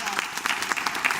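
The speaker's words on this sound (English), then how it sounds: "Can we just give him a round of applause?" Brief burst of audience applause during a choral singing masterclass, a room of singers clapping steadily with no voices on top, dense and fairly close.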